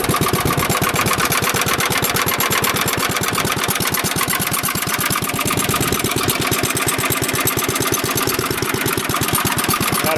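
A 1948 Ariens tiller engine running close by, a loud, steady, rapid chugging pulse that stays even throughout.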